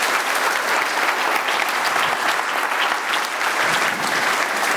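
Church congregation applauding during a sermon, steady dense clapping from many hands filling the room throughout, loud and sustained with no clear talk.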